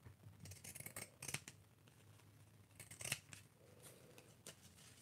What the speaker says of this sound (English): Let's do pinking shears on the material.